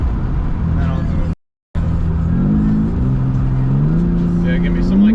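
A BMW G80 M3 accelerates hard in M mode, its engine note climbing steadily in pitch with a deep rumble, loud and close from inside the car, broken by a brief gap and overlapping with talk.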